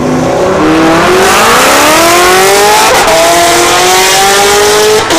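A Camaro launches off the two-step at a dragstrip during test-and-tune night, its engine note climbing steadily and loudly through the run with a harsh, continuous roar and a faint tire-squeal edge.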